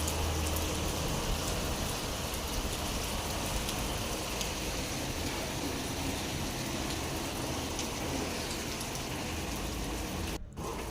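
Heavy rain pours down steadily in a dense, continuous hiss that stays loud and unbroken throughout, with no voices, ending in a brief dropout near the very end.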